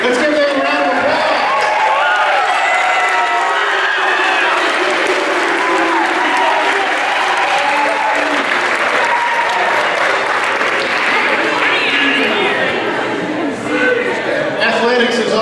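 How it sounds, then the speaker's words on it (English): A room full of people applauds steadily for the coaching staff at a Roane State athletics awards night. The clapping is dense and sustained for the whole stretch, with some crowd murmur mixed in. "Let's give them a round of applause."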